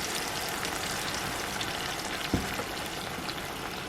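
Heavy whipping cream poured over cooked mushrooms in a pan gives a dense, steady sizzle throughout, with one brief clunk partway through and no talking.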